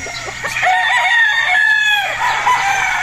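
A Gilmore gamecock rooster crows loud and close, one drawn-out, wavering call held for about three seconds, with a faint rhythmic clucking underneath.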